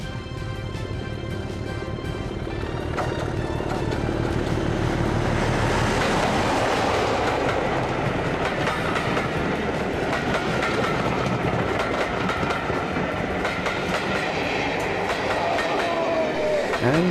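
Locomotive 5081 passes northbound over Burrs on the East Lancashire heritage railway, a loud, steady rumble with a clickety-clack of wheels and a faint wheel squeal near the end.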